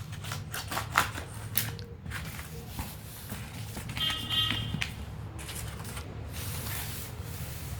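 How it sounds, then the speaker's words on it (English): Scissors cut a sheet of paper in half for a school craft project, with a few close, soft snips and rustles of paper handling, fairly quiet. "I am going to cut this into half."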